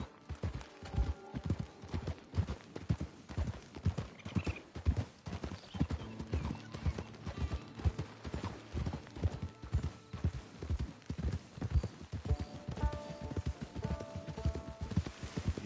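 Horse hooves clip-clop in a steady walking rhythm while a horse is ridden in a video game, with a brief snort or whinny and a quiet musical score underneath.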